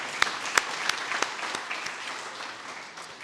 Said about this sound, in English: shall we give her a good round of applause